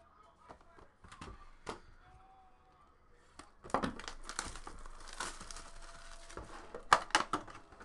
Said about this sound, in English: Let's peel this open like a Wonka bar.